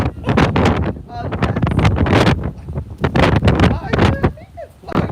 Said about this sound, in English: The wind is strong. The wind is strong out here.